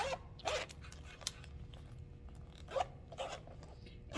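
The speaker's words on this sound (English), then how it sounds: "I'm just going to test out my zippers" Zippers are pulled along a sewn bag with lining, making several short raspy zips spaced a second or two apart, close and fairly soft.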